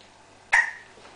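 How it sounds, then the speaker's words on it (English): A baby gives one sudden, sharp hiccup midway through an otherwise quiet moment, with a short fading tail and no talking. "And you have the hiccups?"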